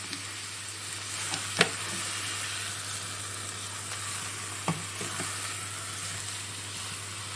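Tadjine edjben with onion cooks in a pot, giving a continuous close sizzle and frying hiss with a low steady hum beneath and a couple of brief utensil taps, no one speaking.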